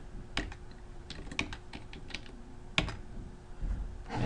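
Fingers tap out numbers on a computer keyboard in a quiet room, giving a brief run of soft clicks with a few sharper key strikes, close by and without speech.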